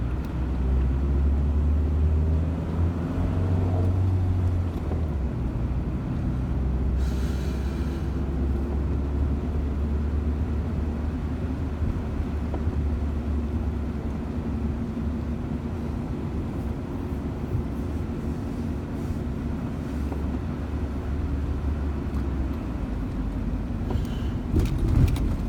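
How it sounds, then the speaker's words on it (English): A 2011 Ford Ranger XLT Super Cab pickup truck drives along snowy roads in Stillwater, Minnesota, heard as a continuous deep cabin rumble of engine and tires, steady and loud for the whole stretch, without any speech. "The vehicle I'm driving is my 2011 Ford Ranger XLT Super Cab."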